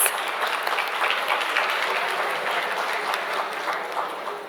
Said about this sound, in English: Can we have a huge, huge round of applause?